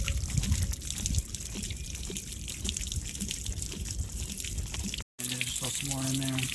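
Water drains steadily from a camper's water heater after the anode is pulled, a continuous splashing trickle that briefly cuts out, then returns with a faint tonal hum.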